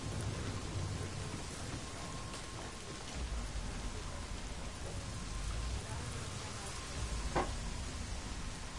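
Rainfall with rolling thunder in the video game Days Gone, a steady hiss of rain with low rumbles swelling through it and one sharp crack near the end, moderately quiet throughout.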